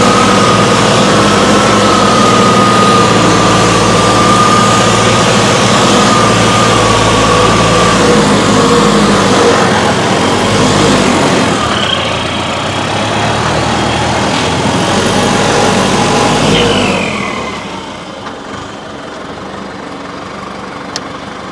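A diesel tractor engine runs loud and steady at high revs in third gear, medium range, then its speed drops noticeably near the end and settles to a lower, quieter idle-like drone.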